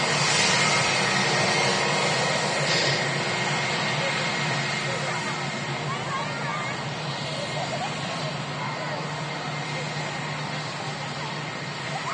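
Jet airliner landing at Manchester Airport, a steady broadband roar heard from a distance that holds for the whole stretch, with people talking over it throughout.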